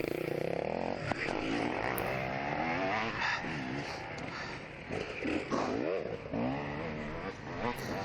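Dirt bike in a hare scramble race revving and passing by, its engine rising and falling in pitch over several seconds, mixed with talk.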